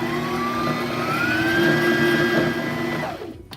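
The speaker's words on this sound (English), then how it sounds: "Then continue to fill the rest of the bobbin." A sewing machine winds thread onto its bobbin with a steady, loud motor whine that climbs slightly in pitch as the spool fills, running continuously before tapering off near the end.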